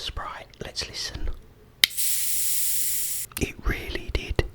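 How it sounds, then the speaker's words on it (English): A freshly opened bottle of Sprite fizzes with a bright, steady hiss lasting over a second, bracketed by soft whispering before and after. "It really did have a bit of a fizz"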